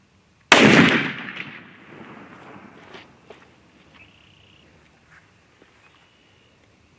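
A single sharp, loud rifle shot from a Remington Ultimate conversion fitted with a 7-power scope, fired outdoors past a chronograph; the blast rings out and decays over a couple of seconds, followed by faint small clicks and rustles.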